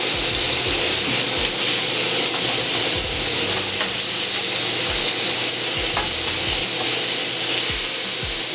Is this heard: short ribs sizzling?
yes